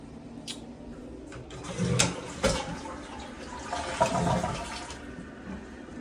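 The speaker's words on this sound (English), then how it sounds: "that's flushing like normal" Toilet flushing in a bathroom with good water pressure, a rushing, gurgling water sound with a couple of louder surges, heard close and alone without talk.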